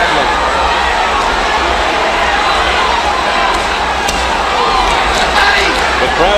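Arena crowd cheering and roaring during the Thomas Hearns versus Iran Barkley boxing fight, a loud continuous wall of voices with sharp shouts rising over it, a commentator talking underneath.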